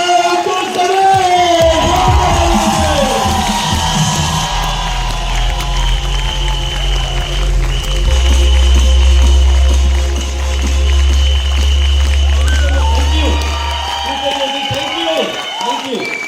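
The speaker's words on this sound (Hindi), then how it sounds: "जोरदार तालियों से स्वागत करते हैं" An audience at a youth empowerment event gives a stage speaker a loud, sustained round of applause with cheers and whoops, a voice talking over it, and a deep musical hum joining partway through.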